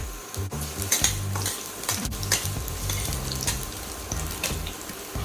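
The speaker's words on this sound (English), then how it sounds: "Once the oil is hot, add the garlic." Garlic frying in hot olive oil in a pan: a steady close sizzle with spoon-against-pan clinks and stirring scrapes throughout and no talking.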